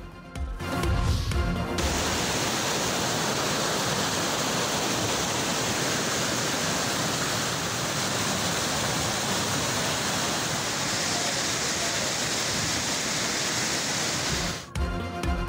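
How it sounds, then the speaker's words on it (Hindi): Heavy rain pours down in Islamabad as a steady, loud, unbroken roar of falling water that lasts about thirteen seconds, with brief other sounds at the very start and end. "इस्लामाबाद में शदीद बारिश"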